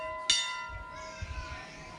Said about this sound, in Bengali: মা তার আগে এই যে ঘন্টাটা বাজাচ্ছে।